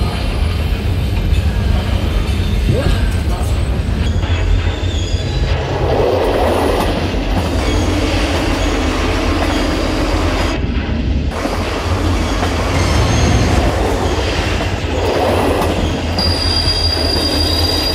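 A train rumbles steadily past on the rails, wheels squealing and clattering, loud and close throughout with no voices.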